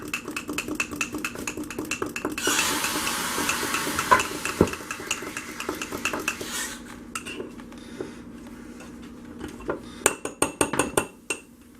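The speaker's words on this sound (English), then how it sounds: "we're just going to sit here and mix it up until it dissolves" Soap paste stirred into boiling hot water to make homemade liquid dish soap, a steady scraping and clinking of a utensil against a pot, continuous and close, with no voices.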